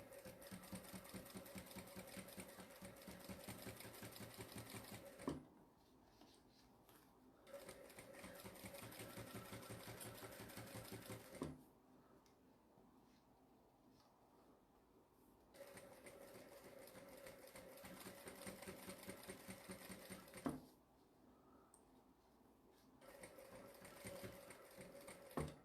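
A domestic sewing machine stitches a faux-leather tote bag in three long steady runs of rapid rhythmic whirring, separated by short quiet pauses, close and clear with no talking.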